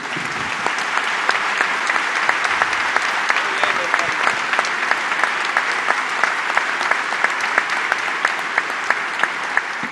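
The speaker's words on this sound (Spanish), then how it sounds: "démosle un gran aplauso y muchas gracias" Audience applause at a Pacific Alliance business meeting in Peru, steady dense clapping from a large crowd sustained throughout with sharp individual claps standing out.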